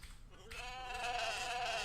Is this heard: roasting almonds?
no